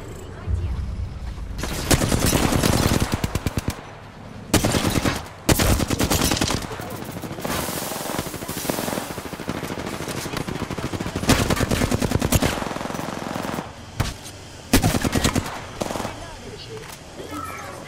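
Heavy automatic gunfire in an Apex Legends match crackles in several long, loud bursts separated by brief pauses, dense and close-up throughout.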